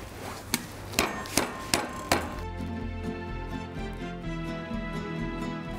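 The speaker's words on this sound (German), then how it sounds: "Und dann können wir jetzt die Schnitzel klopfen." Five hard, evenly spaced thwacks of a meat hammer pounding crocodile schnitzel, then the strikes stop and a low humming background with faint music carries on.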